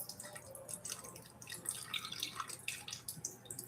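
Garlic juice poured into a pan while cooking seafood lasagna, a soft, continuous trickling and dripping of liquid, close and fairly quiet, with no talk.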